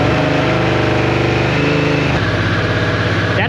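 A Harley-Davidson Sportster S motorcycle engine runs close and loud with a steady pulsing, loping beat, shifting slightly in pitch partway through.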